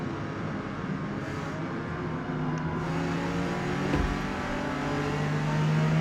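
A Porsche 914-6 accelerating down the straightaway at Road America in Forza Motorsport, its engine droning steadily and rising in pitch, loud and continuous with no talk.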